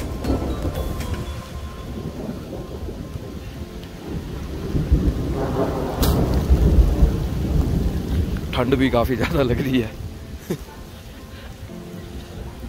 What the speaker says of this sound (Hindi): बारिश पड़ गई है